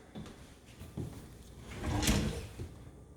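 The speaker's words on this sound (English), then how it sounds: "I was having fun in these drawers." Kitchen drawers slide open and shut with a few soft thuds and a longer rolling glide, close and fairly quiet with no talking.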